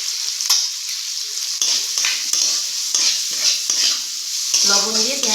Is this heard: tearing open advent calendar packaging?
no